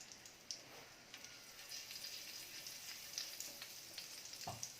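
A quarter teaspoon of asafoetida hits melted ghee in a pan on low gas, making a faint, steady sizzle with scattered small crackles and pops.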